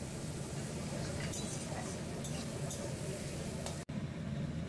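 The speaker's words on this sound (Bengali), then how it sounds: "এবার খুব ভালোভাবে পেঁয়াজটাকে ভেজে নেব।" Onions fry in a pan with a little salt added, giving a steady close sizzle throughout with a few scraping stirs and a brief cut near the end.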